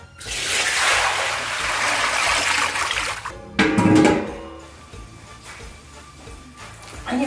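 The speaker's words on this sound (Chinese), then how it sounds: "开始烧水煮饺子" Water for boiling dumplings gushes into a pot in a steady rushing stream for about three seconds, then a brief louder splash and clatter before it settles into a quieter trickle.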